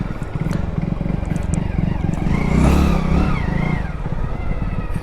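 Hero Splendor Plus BS6 motorcycle engine while riding, a close steady putter that rises briefly as the bike accelerates, then settles back, with wind noise.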